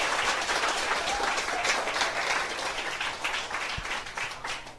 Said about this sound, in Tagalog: dapat nilalakasan yung palakpak nyo